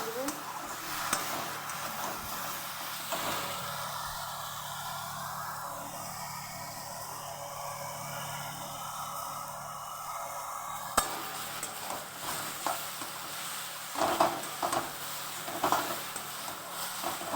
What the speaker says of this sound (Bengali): মশলার সাথে বেগুনের ভেজে নিচ্ছি।